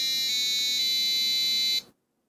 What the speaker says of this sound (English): pressing the button for the buzzer.